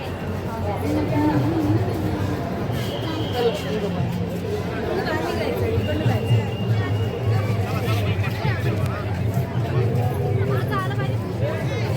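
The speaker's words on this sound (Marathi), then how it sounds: "लोकांची गर्दी आज वाढत चालेल" A dense crowd at Deekshabhoomi in Nagpur, outside the temple and vihara grounds on a morning, fills the air with steady babble of many voices, footsteps and a low traffic hum, constant and close throughout.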